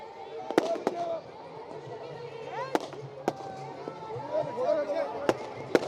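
Fireworks burst at a Diwali rangoli celebration in Ludhiana decorated with 11,000 lamps, sharp scattered bangs cracking over a steady murmur of a crowd and voices.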